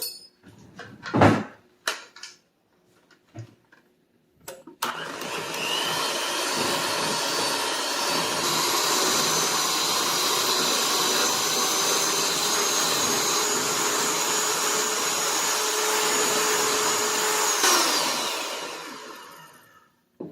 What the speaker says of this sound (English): We are going to mix this up until it's nice and creamy with our mixer, our hand mixer.